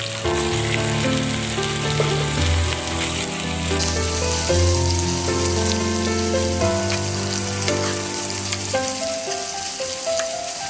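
Minced pork frying with garlic in a hot pan for tofu and pork stir-fry, a loud, steady close sizzle with crackling, background music underneath.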